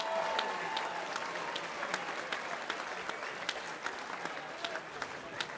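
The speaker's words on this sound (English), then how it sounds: "Give them a round of applause, ladies and gentlemen." Crowd at a charity boxing event applauding the fighters after a bout, a continuous wash of clapping with scattered sharper claps standing out, moderately loud and steady throughout.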